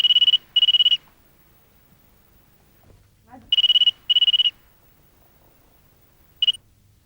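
An electronic telephone rings in two-pulse bursts, loud and close, with quiet gaps between rings and a brief final chirp.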